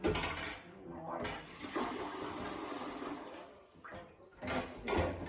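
Water from a tap runs and splashes into a container at close range, a steady rushing pour that dips briefly before surging again, with no talking over it.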